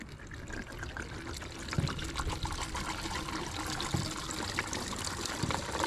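Gasoline is poured by hand from a gallon container into the 390 FE engine of a 1967 Ford Thunderbird, making a continuous splashing trickle with small irregular glugs, close by and moderately quiet.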